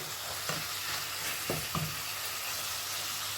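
Chopped tomato fries in a pan for chicken quesadilla filling, a constant soft sizzle heard up close with a few brief scraping stirs of a utensil against the pan partway through.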